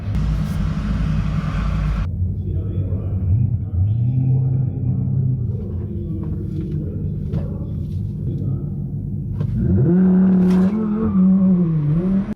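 A Tesla Model 3 races a Kia EV6 GT, both electric cars: steady loud road and tire rumble throughout, with a rising, wavering motor whine swelling near the end.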